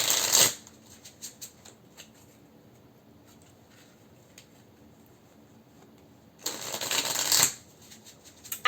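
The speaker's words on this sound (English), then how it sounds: "I just love the way this little deck shuffles" A mini tarot deck is shuffled in two brief, crisp riffling bursts, one at the start and one near the end, separated by quiet light handling.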